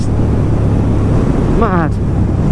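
A 2019 KTM 1290 Super Duke R motorcycle engine roaring steadily under open throttle, loud and constant with wind rush, and a brief rising tone near the end.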